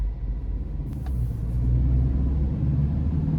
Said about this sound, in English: let's go ahead and take this 2023 Midwest Automotive Designs Luxe Sprinter van out on the road for a test drive